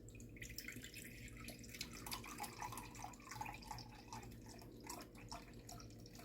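Water is poured into a cup, a soft, steady trickle with light splashing and dripping that carries on evenly at close range and quiet level, with no voices.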